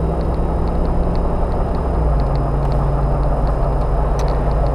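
A car with a MoTech Gen IV module drives along in drive, its steady, loud engine and road drone running continuously with a slight pitch shift partway through and no talking.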